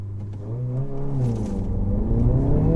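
A 2022 Honda Civic Si accelerating hard from a standing launch without wheel spin, the engine note rising steadily and loudly through the revs from close by, with no speech.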